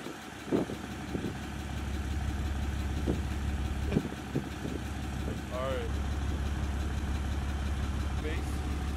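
A Cummins diesel truck engine rumbles steadily at a low pitch, close and loud, as its turbo builds. Brief scattered voices and knocks sit over the constant drone.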